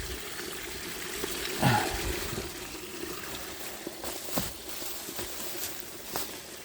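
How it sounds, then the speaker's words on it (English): Water trickles and splashes steadily as it drains out through an old piece of eaves trough and downspout at an off-grid cabin being prepared for winter, fairly close with a few louder gushes. "that's going to drain the remaining water out of this"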